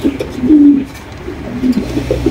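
A pair of red king pigeons coo nearby in low, throaty, rolling calls, loud and close, repeating in uneven bursts.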